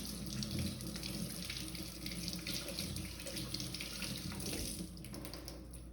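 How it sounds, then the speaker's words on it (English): Hands being washed under a running kitchen tap while vegan stuffed peppers are prepared, a steady continuous stream of splashing water that stays fairly quiet and even throughout, with no voices. "I'm also going to wash my hands at the same time."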